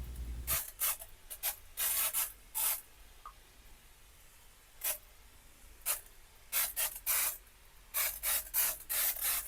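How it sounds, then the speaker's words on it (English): A series of short hissing bursts from a spray bottle misting coir compost, some single and some in quick clusters, separated by quiet pauses, close by. "I won't need that much, just a light spray."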